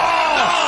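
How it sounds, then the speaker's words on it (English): A wrestling crowd at a Jon Moxley versus Kenny Omega match roars in one loud, dense, sustained burst of massed voices, steady and close with no pause. "The crowd."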